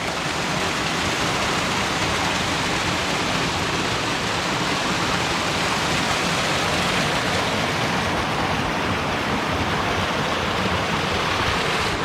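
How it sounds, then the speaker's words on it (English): A waterfall roars through the Monashees wilderness of British Columbia, giving a dense, unbroken rush of white water that stays steady and loud throughout with no voices. "There's an awesome waterfall here."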